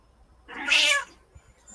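A single drawn-out cat meow, clear and close, rising and then fading, with quiet surroundings before and after.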